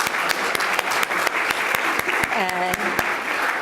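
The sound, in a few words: applause for the panelists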